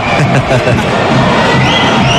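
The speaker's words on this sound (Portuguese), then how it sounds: "Bacana, bacana a torcida, tá lotando o ginásio." A packed gymnasium crowd roars and cheers at a match between Armação and União Castilhense, a loud, continuous mass of voices with a few shouts rising out of the din.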